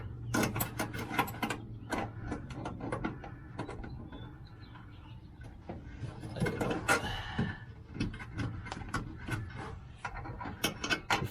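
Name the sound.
wrench or socket tightening screws on motorhome sewer valve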